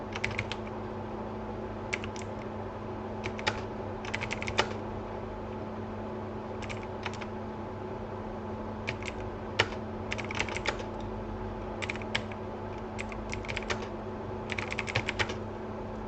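Computer keyboard typing in Hindi in an office word processor, heard as short bursts of quick, crisp key clicks separated by pauses, close and fairly quiet, with no voices.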